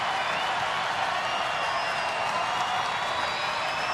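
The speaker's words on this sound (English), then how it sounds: "Crowd getting into it." Baseball stadium crowd at a San Francisco at Detroit game cheering and clapping in a dense, steady wash of noise, sustained and broad with no single voice standing out.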